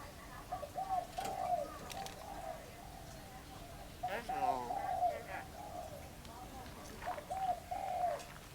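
Pigeons coo in soft, repeated bursts close by, three clear rounds of low throaty calls separated by brief pauses, with faint background hum around them at a Thai immigration office in Chiang Mai.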